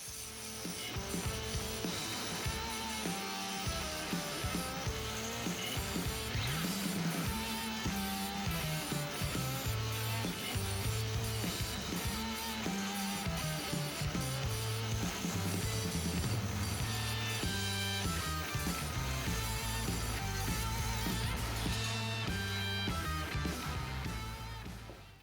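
A steel bumper bar is notched with a power tool, giving a continuous loud, harsh grinding and rasping that runs unbroken for the whole stretch with uneven pitch shifts as the cut progresses.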